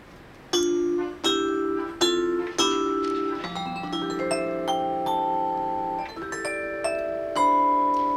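A Deagan Electrovibe electric vibraphone plays alone: a slow run of struck, bell-like notes that overlap as they sustain and ring out, clear and close.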